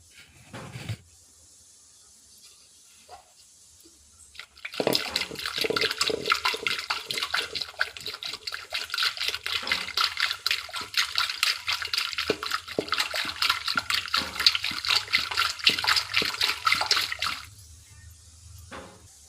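Cream (malai) being churned by hand into butter makes a steady, rapid sloshing and swishing that runs for about twelve seconds before stopping, with quiet moments on either side.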